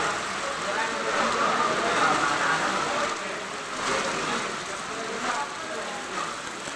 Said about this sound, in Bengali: প্রচুর বৃষ্টি হচ্ছে নোয়াখালীতে